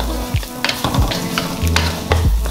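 Sweet Chinese sausage and garlic sizzle and bubble in a wok, with quick metal spatula scrapes and tosses at an irregular rhythm over a steady frying hiss, close and fairly loud.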